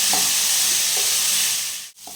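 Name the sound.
chana dal frying in a pan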